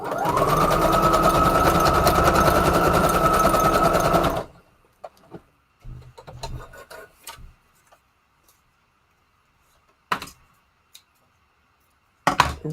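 A sewing machine runs a straight stitch on a small junk journal embellishment in one steady, close whirring burst of about four seconds, followed by quiet handling clicks and taps.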